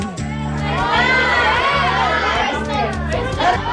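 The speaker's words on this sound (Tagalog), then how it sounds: "Dahil ang buong klase, iisang sigaw tuwing uwian." A whole school class of children shouts together in unison, a loud, sustained crowd yell that holds steady across the moment with cheering voices layered over it.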